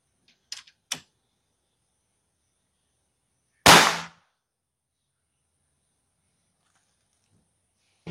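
An FX Impact M4 air rifle fires a few sharp, clipped shots: a pair of quick cracks early, a louder dominant report in the middle, and another shot starting at the end, with silence between.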